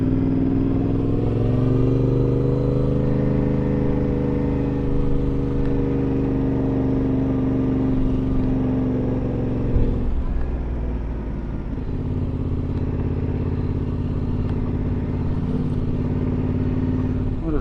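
A motor vehicle rolls along slowly in first gear at about 20 km/h, its engine giving a steady, close droning hum with a brief dip and clatter midway before the drone resumes.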